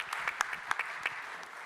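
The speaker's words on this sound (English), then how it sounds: "Yeah, you can round of applause." Brief round of applause from a round-table audience, a modest patter of scattered hand claps lasting under two seconds, fairly even and mid-distance.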